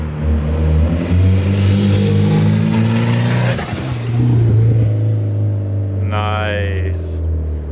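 Mitsubishi Evo X fitted with an ETS cold air intake, engine revving loudly and steadily near the car, rising in pitch around the middle, with people talking briefly over it toward the end.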